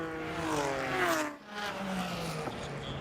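A Wolf Thunder prototype race car with a big V8 thunders past at Homestead during a FARA endurance race. A brief, fairly distant engine roar rises and then drops away as the car goes by.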